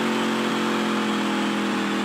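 A steady race car engine drones in the NASCAR Dirt to Daytona video game, a weak car running basic parts with an upgraded exhaust, holding a continuous loud hum with no speech.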